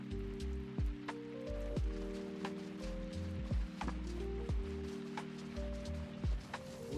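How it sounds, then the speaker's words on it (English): Rain falls in a Hardcore-mode online game as a faint, steady patter. Recurring soft thuds and sustained musical tones sit over it at a low level. "Always gotta be raining."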